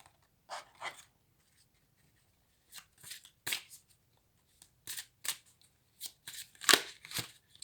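Oracle cards being shuffled by hand during a tarot-style reading, several separate bursts of riffling and flicking with short pauses between, close and crisp, no talking.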